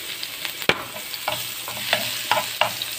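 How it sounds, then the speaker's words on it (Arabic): Garlic frying in ghee in a pan for Egyptian molokhia with shrimp, a close, steady sizzle broken by several sharp scraping stirs at uneven intervals, with no talk. "دلوقتي هنعمل طشة الثوم المشهورة في سمنة برضو، وهنحط ثوم في الكزبرة الناشفة."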